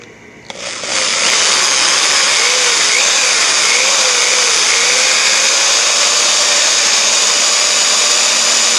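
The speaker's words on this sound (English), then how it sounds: "As long as I can drill straight, I may need a longer drill bit" A steady, loud motorized whine runs continuously after a brief start, like a power drill held at constant speed, with a slight wavering pitch.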